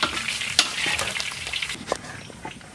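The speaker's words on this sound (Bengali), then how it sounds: "আমরা ফুলকপিটা সুন্দর করে ভেজে নেব।" Cauliflower frying in mustard oil in a wok, a steady loud sizzle with crackling pops and brief stirring scrapes, close up with no voices.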